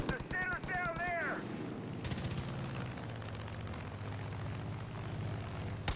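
Far Cry 5 gunfire: a rapid automatic burst cracks out loudly in the middle, then sustained rhythmic shots continue, with game sounds and a brief voice-like tone early on.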